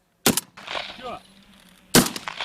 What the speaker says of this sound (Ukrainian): Їх артилерист має збити за чотири постріли з помпової рушниці